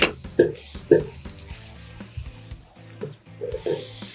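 Crushed ginger dropped into a hot pan and sautéed, giving a close sizzle with irregular scraping and clattering stirs, a few sharper bursts near the start.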